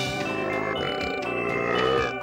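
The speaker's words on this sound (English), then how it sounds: "You get to meet the pirate hippo whose dialogue is just burping" A cartoonish pirate hippo character in the video game Banjo-Kazooie burps continuously as its dialogue, a loud, rumbling gurgle held for a couple of seconds over a busy musical soundtrack.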